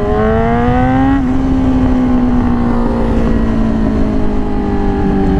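A Yamaha R6 motorcycle with an insanely loud exhaust roars close and loud, its engine pitch sliding down and settling into a steady drone under heavy wind buffeting while riding, with no talking.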